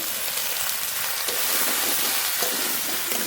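Spices and fali fish curry with bottle gourd sautéing in a pan, a dense continuous sizzle with faint stirring scrapes, close and steady.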